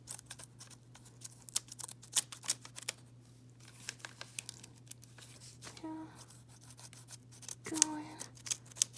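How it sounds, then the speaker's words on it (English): Scissors snip through a paper template for vinyl plank flooring, a steady run of crisp close cuts with light crinkling of the paper and a constant low hum underneath. "cutting the paper."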